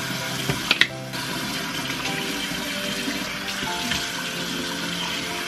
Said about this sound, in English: now I'm gonna wash my face.